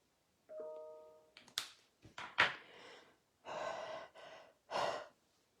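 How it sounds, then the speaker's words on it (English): A person breathes heavily and close to the microphone in a quiet room, making several distinct gasping inhales and exhales with short pauses between them, plus a brief tonal chime near the start. "Sounds like I'm breathing heavily, doesn't it?"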